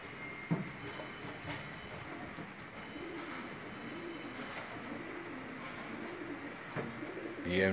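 Pigeons coo softly from a rooftop loft in Jalalpur Bhattian amid a steady hum of background noise, with a few faint knocks and a brief rustle at the end.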